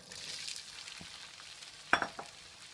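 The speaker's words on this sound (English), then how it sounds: "I've melted some butter in a saute pan over medium heat. I'm going to add my peas" Gentle frying hiss of peas added to butter melted in a sauté pan over medium heat, a steady low sizzle with a few soft stirring knocks near the end.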